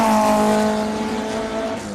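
A classic race car at Simola's Classic Car Friday hillclimb, class H7, revs hard and loud and close, its strong steady engine tone holding, then dipping and wavering near the end as a gear shift seems to be missed.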